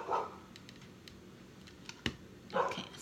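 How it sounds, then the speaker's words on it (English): A dog barks twice in short bursts, once at the start and once near the end, at moderate distance in an indoor crafting setting, with light clicks and tapping between the barks. "that's my mom's dog barking again"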